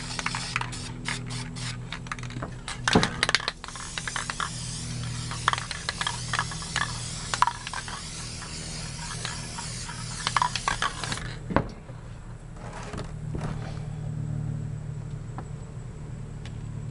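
Spray paint can misting darker and electric blue paint over artwork: a steady, close broadband hiss with scattered clicks and rattles, running for most of the stretch before fading to a quieter tail.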